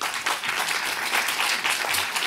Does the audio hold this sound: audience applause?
yes